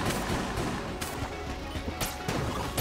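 A weapon in Enter the Gungeon fires several sharp shots at uneven intervals over a dense, busy layer of game sound and music, with no talking.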